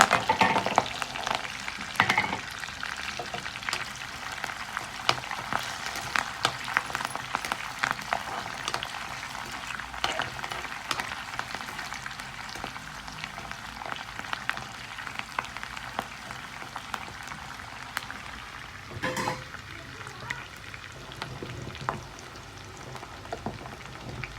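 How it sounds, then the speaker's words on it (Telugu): Ginger and green chillies frying in oil in a pan, a steady crackling sizzle with scattered pops and sharper spits that eases slightly over time. "అల్లం పచ్చిమిర్చి వేసేస్తున్నాం ముందు. అవి కొంచెం ఫ్రై అయ్యాక ఉల్లిపాయ, కరివేపాకు."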